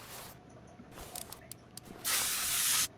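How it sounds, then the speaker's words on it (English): An aerosol can sprays penetrant onto a bolt on a truck, a steady loud hiss lasting just under a second, preceded by a few faint clicks and handling knocks. "I have to spray a bolt or two."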